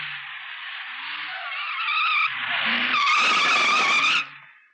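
A car skids with loud, sustained tire squeal lasting over four seconds, rising in intensity before cutting off and fading.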